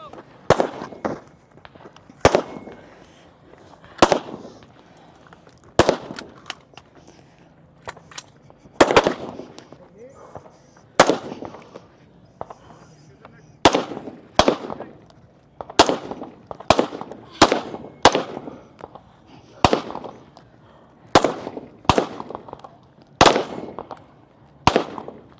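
Rifle shots ring out during the firing sequence of a women's elite shooting competition, a long series of sharp, loud cracks. Some come singly and some in quick bursts, with brief pauses between them and occasional faint voices behind.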